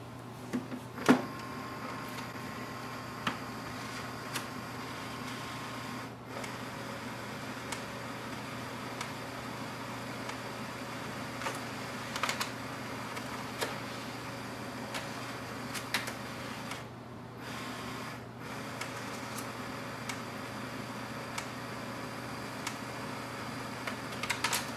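Epson WorkForce WF-2950 printer scanning pages, a steady low mechanical drone with a faint hum running throughout, sprinkled with small clicks and ticks, fairly quiet and close with no talking.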